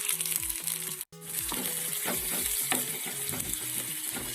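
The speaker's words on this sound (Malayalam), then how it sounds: "നമ്മുടെ ഈ വറവല് നന്നായിട്ടൊന്ന് മൂത്ത് വരുന്നത് വരെ നമുക്ക് ചെറിയ തീയിലൊന്ന് ഇളക്കി കൊടുക്കാം" Steady sizzling of spices and curry leaves frying in hot oil over a low flame, with a spoon scraping and stirring the pan in a repeated rhythm, close up.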